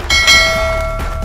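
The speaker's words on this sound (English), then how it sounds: "hit the notification bell" A notification bell sound effect rings out with a bright metallic strike and a sustained ringing tone that decays over about a second, loud and alone with no talk.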